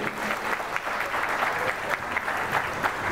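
Wedding guests give the newlyweds steady, lively applause, a continuous close crackle of many hands clapping together without a break.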